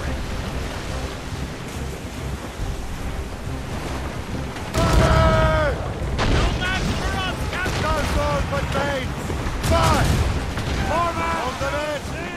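Broadside cannon fire from a sailing warship in Assassin's Creed Rogue, heavy booming volleys crashing together over rushing waves, with voices shouting orders among the blasts.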